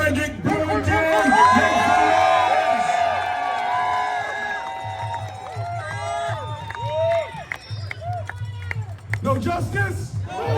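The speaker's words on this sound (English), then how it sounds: "let us give a thunderous round of applause for none other than Mr. Frederick Brewington" A rally crowd in Mineola, New York roars with cheers, whoops and shouted voices, loud and close, swelling early and then continuing in rough bursts of yelling throughout.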